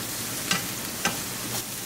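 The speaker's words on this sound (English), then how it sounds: "Make sure all the masala is nicely incorporated with onion." Masala and onion stirred and fried over a high gas flame for a cluster bean (guar) sabzi, a steady close sizzle with a couple of brief spoon scrapes against the pan.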